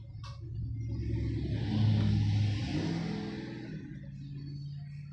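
A car passes outdoors during a morning livestream at a goat farm. Its engine rumble swells to a peak midway, then fades as it moves off, heard alone without talk.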